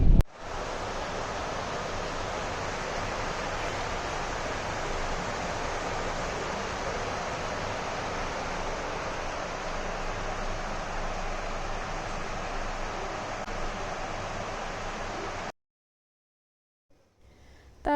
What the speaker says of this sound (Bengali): বাতাস ছুটছে মনে হচ্ছে।